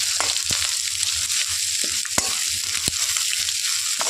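Chicken pieces frying in a pan for a homemade chicken roll, a loud continuous sizzle with several distinct scraping knocks from stirring spaced through it, no talk.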